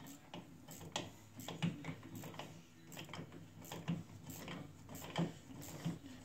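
A 10 ratchet wrench clicks repeatedly while tightening a bolt on a Wildcat 1000 steering slider, with a rhythm of close, fairly quiet ratcheting strokes and handling noise.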